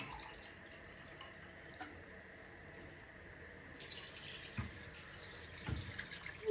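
Water runs from a tap into a container, a steady soft splashing that grows fuller and louder partway through, with a few faint clinks.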